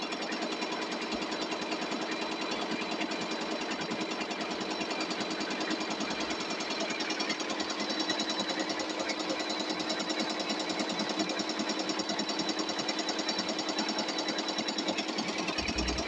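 A Tajima Sai embroidery machine stitches a design on a baby cap and body suit, a rapid, even mechanical chatter of needle strokes running steadily and close for the whole stretch.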